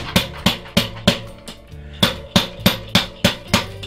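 Glass mushroom spawn jar whacked against a tire, about a dozen sharp thuds close up in a steady rhythm, each with a brief glassy ring and the rattle of loose grain kernels.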